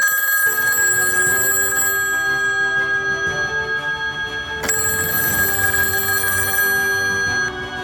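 A telephone bell rings with repeated bright metallic trills that overlap into a sustained ringing tone. It is loud and close and continues for several seconds with a brief break midway.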